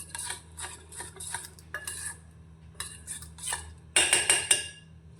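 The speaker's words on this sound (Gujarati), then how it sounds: "રવાને મિક્સ કરી લઈશું" Semolina and water being stirred together in a bowl, a spoon scraping and clinking against the sides in repeated bursts, close and moderately loud, with a sharper, brighter run of scraping near the end.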